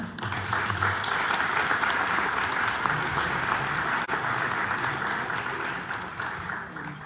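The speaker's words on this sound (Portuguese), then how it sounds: "Pode haver uma salva de palmas." A hall audience at the Braga participatory budget awards breaks into sustained, even applause, a dense steady clatter of many hands lasting several seconds with no voices over it.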